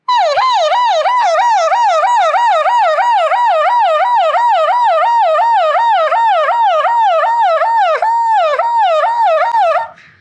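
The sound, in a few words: mimicry artist imitating ambulance siren with voice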